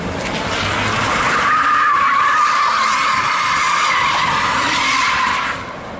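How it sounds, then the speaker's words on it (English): A car doing a burnout on a hoon road trip across America, tires skidding and squealing in one loud, sustained screech over engine roar that fades near the end. "And what's more American than doing burnouts?"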